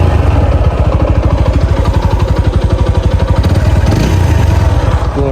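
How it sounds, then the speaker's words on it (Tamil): A TVS Apache 200 4V motorcycle idles close by, its exhaust thumping in a steady, even pulse with a slight blip of revs near the end, loud and with no voices. "எக்ஸாஸ்ட் சவுண்ட் உங்களுக்கு காட்டுறேன்."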